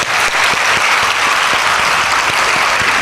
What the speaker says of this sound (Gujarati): એમના માટે એક જોરદાર તાળીઓ પાડી દો